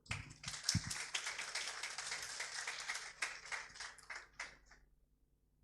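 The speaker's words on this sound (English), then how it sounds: "Please give a round of applause right now." Scattered, fairly quiet clapping from a conference audience welcoming a guest professor at an international maritime research event; a few sharp claps lead into steady applause that thins and fades out over several seconds, with no talking.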